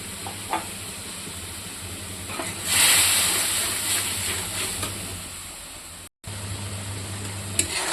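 Turmeric and chili powder spice paste sizzling in a pan with a little water, a steady hiss through the clip that swells briefly near the middle, with occasional soft stirring taps.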